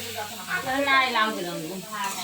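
A mother fries food for fish in a home kitchen, giving a steady hiss and sizzle that runs under close speech.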